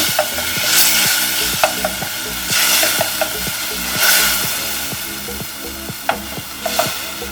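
Blended tomatoes frying in a hot pan for a Kenyan-style egg stew while being stirred, continuous close sizzling with rhythmic spoon scrapes and small clicks against the pan.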